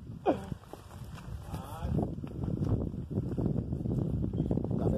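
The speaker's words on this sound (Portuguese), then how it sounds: "Vai vendo o tanto de vaca." A cow bellows early, then a busy shuffle of hooves and movement as a herd of dairy cattle passes close by.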